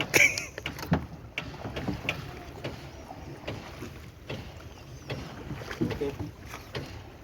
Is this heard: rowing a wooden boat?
yes